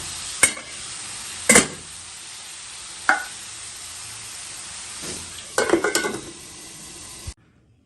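Tomatoes, chillies and garlic cooking in a pan over a low flame give a steady close sizzle, broken by several sharp clinks and scrapes from stirring, with a longer burst of clatter near the end.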